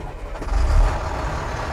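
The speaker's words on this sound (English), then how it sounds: "we're gonna go ahead and start the vehicle up" A knuckleboom truck's engine starts up, its deep low rumble swelling after about half a second and then settling into a steady, close idle.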